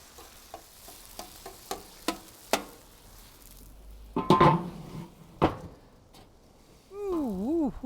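Spicy pork bulgogi and rice sizzling and being scraped and stirred on a griddle, with sharp spatula taps early, a burst of frying hiss midway, and a warbling tone near the end.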